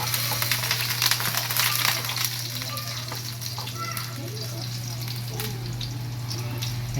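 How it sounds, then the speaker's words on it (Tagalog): Garlic fries in hot oil with a steady, dense sizzle and crackle close up, accompanied by a constant low hum and occasional scraping stirs. "Once the oil is hot, you put the garlic."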